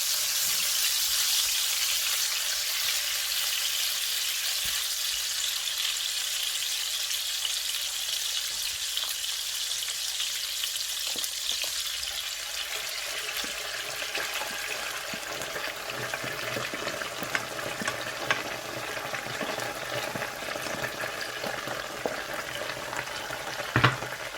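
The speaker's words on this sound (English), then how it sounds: "I'm going to add all of them together and fry it together." Onions, tomatoes, pepper and crayfish fry together for Nigerian party egusi soup, a loud, continuous close sizzle that crackles steadily for the whole stretch, with occasional stirring scrapes.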